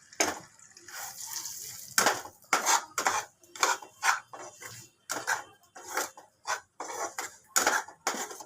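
A spoon scrapes and knocks repeatedly in a pan as semolina is stirred with ghee for sooji kachori, a series of close, distinct strokes separated by short pauses.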